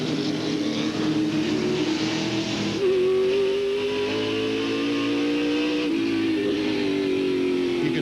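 A Chevrolet stock car races around Sears Point with a loud, sustained engine drone and strong harmonics. The pitch drops and holds lower as the driver backs off the accelerator without shifting, and other cars rumble nearby.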